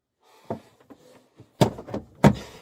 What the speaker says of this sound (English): Stop kicking the door.